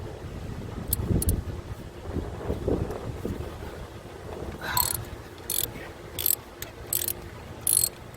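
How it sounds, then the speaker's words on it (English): A hand ratchet with socket and extension works loose a snug spark plug on a 2.5L four-cylinder Toyota Camry, giving short bursts of close clicking pawl strokes, several in a row, over low wind and handling noise. "So I'll have the ratchet and the socket, the extension, and I'll go all the way down there."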